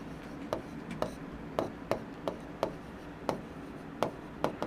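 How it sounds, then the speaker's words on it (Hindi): Chalk or marker strokes on a classroom board, a series of sharp tapping and scratching strokes in an irregular rhythm, close and moderately loud over a quiet room hum, with no talking. "जैसे अब मैं इसको यहां पे लिखता हूं"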